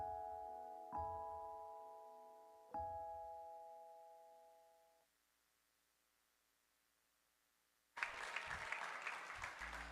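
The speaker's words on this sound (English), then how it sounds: "Please, can we clap for them again?" At a business conference, two ringing chime tones sound and decay, a stretch of near-silence follows, then audience applause erupts suddenly and continues loudly at the end.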